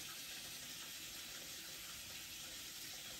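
A steady, soft rush of water runs into aquarium tanks on a fish and shrimp fry rack, a continuous faucet-like pour heard fairly quietly with no voices.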